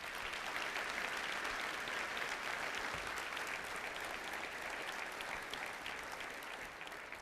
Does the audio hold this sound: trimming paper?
no